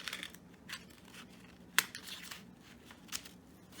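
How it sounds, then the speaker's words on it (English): Paper scissors trim the excess off a paper swimsuit pattern, quiet close snips and paper rustles with one sharper cut, faint and without speech. "you can trim off the excess with your paper scissors"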